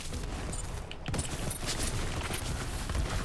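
Dense, loud gunfire bursts from a Borderlands 3 firefight, shots crackling rapidly and almost continuously with a brief lull near the start.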